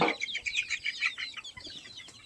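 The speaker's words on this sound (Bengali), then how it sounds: "আমরা এখানে আজ থেকে আবদ্ধ করে মুরগিগুলা পালবো" Chickens kept in a netted pen cluck in quick, rhythmic bursts, close and moderately loud, with no voices over them.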